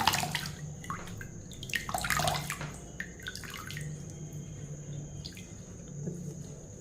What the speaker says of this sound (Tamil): பச்சை தண்ணியில் வந்து பாலக்கீரையை போட்டுட்டோம்.